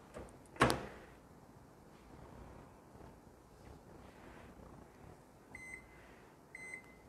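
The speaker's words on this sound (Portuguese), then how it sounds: "Agora, eu vou aquecer 10 segundos aqui no micro-ondas." A kitchen microwave oven briefly warms a chilled dessert mixture. A door clunk comes first, then a faint steady hum, and two short electronic beeps sound near the end.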